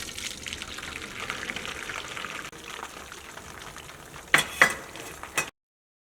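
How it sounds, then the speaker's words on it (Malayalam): Beaten egg poured into hot oil in a pan over a medium flame, giving a steady close sizzle and hiss with a few brief louder clinks and scrapes near the end. "ഓയിൽ നന്നായിട്ട് ചൂടായി കഴിഞ്ഞ് കഴിയുമ്പോൾ ഒരു മീഡിയം ഫ്ലെയിമിൽ വയ്ക്കാം. ഇതിലേക്ക് നമ്മൾ മിക്സ് ചെയ്ത് വെച്ചേക്കണ മുട്ടയുണ്ടല്ലോ, മുട്ട ചേർക്കാണ്."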